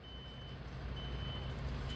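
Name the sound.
old Hiab delivery truck reversing beeps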